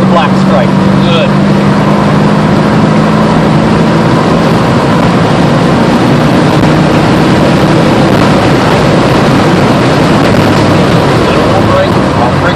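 A Mercedes-AMG C55 accelerating around the Summit Point race track, its engine a loud, continuous drone heard from inside the car while a voice talks over it.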